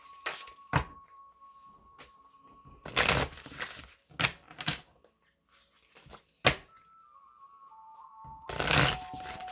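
Moonology Oracle cards are shuffled in several brisk riffling bursts separated by quiet pauses, with a faint steady tone running in the background.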